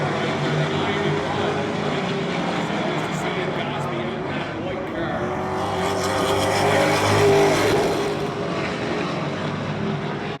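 Pro Stock race cars roar around Oyster Bed Speedway in a steady, loud engine drone that builds slightly near the middle, with crowd and track noise mixed in and a commentator talking over it.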